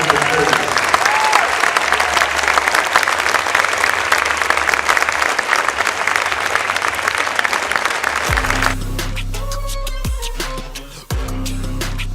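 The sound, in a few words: crowd applauding the class at a basketball game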